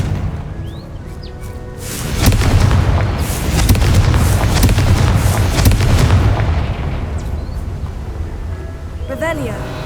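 A Confringo blasting spell in the Hogwarts Legacy video game sets off a loud burst and rolling booms that rumble for several seconds before fading. Game sounds and voices are faintly audible around it.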